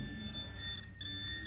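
A metal detector gives a steady electronic tone over a buried dime during a metal detecting outing, the tone dipping briefly before resuming, quiet and close.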